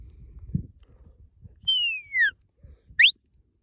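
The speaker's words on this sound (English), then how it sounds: "That's her lie down whistle," A sheepdog handler on a ranch with working dogs blows a lie-down whistle: a loud, drawn-out descending note followed by a short sharp rising chirp, with soft rustling and low background noise around it.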